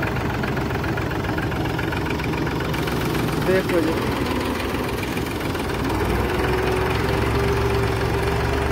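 A 2009 Balwan 400 tractor engine idles steadily with a low rumble running throughout, while someone speaks briefly over it.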